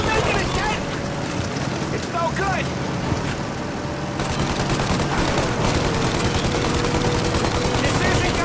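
Gunfire in the Mafia: Definitive Edition video game during a chase to stop a plane, dense loud bursts of shots over a roaring engine and vehicle noise, with voices shouting in between.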